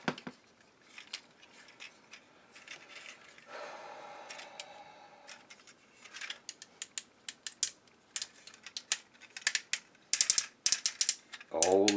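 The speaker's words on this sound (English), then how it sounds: "Oh, listen to those ratchets." Ratchet joints on an SND X Mortis upgrade kit click repeatedly as the limbs are moved, with sharp close clicks in irregular bursts that grow louder and denser toward the end, plus some faint handling noise.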